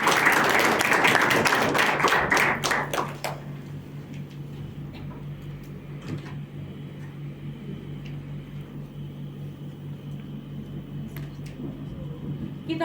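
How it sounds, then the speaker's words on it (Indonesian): A debate audience claps for the opposing and supporting teams, a dense burst of applause for about three seconds that quickly thins to a few scattered claps over a quiet room hum. "beri aplaus dulu kepada tim kontra dan pro"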